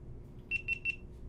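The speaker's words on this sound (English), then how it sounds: "Something beeped. Something just beeped." An electronic device sounds three short, evenly spaced, high-pitched beeps in quick succession, standing alone over a faint room hum.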